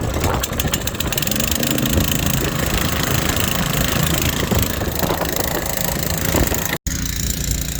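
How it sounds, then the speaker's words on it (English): Small farm water pump running slowly and steadily as a trough fills on a wet Southland sheep farm, a loud continuous engine drone with no talk, ending in a brief dropout. "I'm just going to let this fill and leave the pump there running really slowly"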